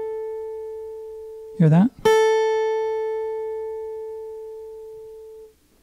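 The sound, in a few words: guitar string vibrato by rolling the finger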